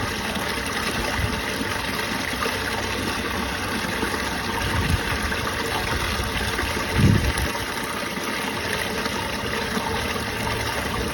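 A submersible pump pushes water out of a pipe, giving a steady, loud rushing and splashing flow with a constant mechanical hum underneath and a couple of brief louder gushes.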